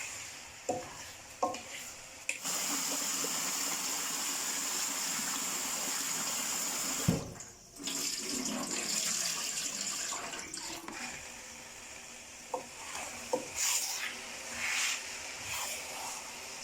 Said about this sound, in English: I will let the water drain for some time